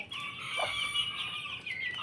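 Native Darag chickens cluck and call softly on a small farm, a few quiet clucks over faint background hiss.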